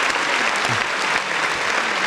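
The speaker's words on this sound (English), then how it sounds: "Give this man a round of applause." Steady, dense applause from an audience, continuous clapping at an even level throughout with no pauses.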